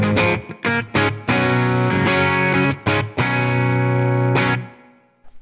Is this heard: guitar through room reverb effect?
yes